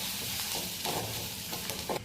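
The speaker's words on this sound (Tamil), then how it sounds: "எண்ணெய் காஞ்சதும் வெங்காயத்தை போட்டுக்கிடலாம். புதினா, கருவேப்பிலை இதை போட்டு வதக்கிக்கிறணும்." Onion, mint and curry leaves sautéing in hot oil, a soft, close hiss broken by a few brief stirring scrapes over a couple of seconds.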